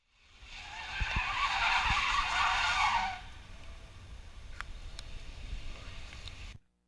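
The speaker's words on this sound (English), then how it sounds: "taking it for a few donuts on our skid pad" A Rolls-Royce Wraith spins donuts on a skid pad, its tires squealing loudly for about three seconds before the screech gives way to a lower engine and road rumble that fades out.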